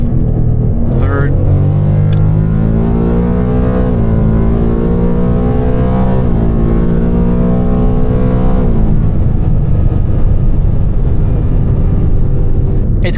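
Ford Mustang GT with a 10-speed automatic in sport mode, its engine droning loud and close as the pitch jumps up with each of several quick downshifts, while a voice talks over it.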